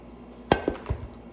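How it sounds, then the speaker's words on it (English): A pool cue with a Zan medium shaft strikes a ball with a sharp, woody click, followed by a couple of lighter knocks as balls make contact, heard close and alone in a quiet room. "This is a Zan medium. This is the sound of the feedback."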